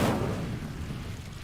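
A fire spell from the game Hogwarts Legacy is cast as a single short, heavy whooshing burst that quickly decays into a low rumble.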